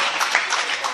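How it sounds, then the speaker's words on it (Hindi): A mushaira audience breaks into applause, dense clapping that fills the short moment at close range. "ताली बजा दीजिए।"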